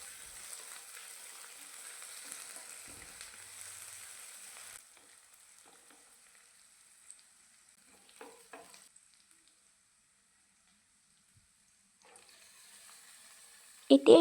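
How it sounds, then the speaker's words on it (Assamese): Ginger garlic paste fried with onions for a duck dry fry crackles faintly in a pan, a soft sizzle that fades partway through, with occasional stirring clinks and a sharper clatter at the end. "এতিয়া ইয়াত দিছোঁ আদা নহৰু বটা আৰু এই আদা নহৰুখিনি কেঁচা গোন্ধটো যোৱালৈকে ভাজি ল'ম।"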